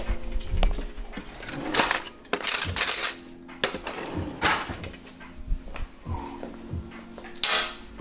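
A hand rummages through a drawer of metal cutlery for a knife, producing repeated loud jangling clatters and clinks in irregular bursts, close by.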